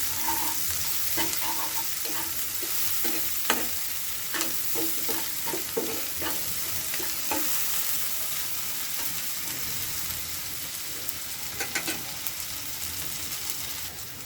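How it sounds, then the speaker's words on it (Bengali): Onions sizzle in oil in a pan with a pinch of salt, a continuous loud frying hiss with repeated scraping stirs and knocks of a spatula, close up and without talking. "ভেজে নিচ্ছি।"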